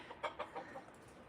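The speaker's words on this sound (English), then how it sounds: "There's a rooster in the tree." Chickens cluck outdoors, several short faint clucks in a quick uneven run near the start that then trail off into quiet.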